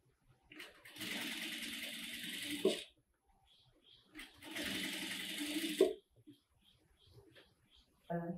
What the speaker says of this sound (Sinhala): ඉලාස්ටික් නූල් දාලා ඔයාලට අවශ්‍ය උස ප්‍රමාණයට මේක මහ ගන්න.